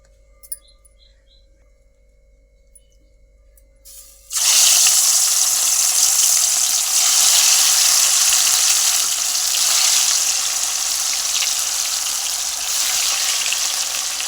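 Fish dropped into hot oil in a pan bursts into loud, steady sizzling after a few quiet seconds of faint kitchen clatter, then keeps frying strongly and evenly.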